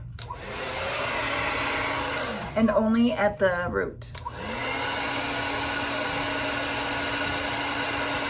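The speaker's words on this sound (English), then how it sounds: "What I'm gonna do is my regular blow dryer. I'm just gonna blow dry it straight up." Handheld hair blow dryer running loud and close with a steady whoosh while drying damp hair straight up at the roots, briefly cutting out as someone speaks, then whirring on again.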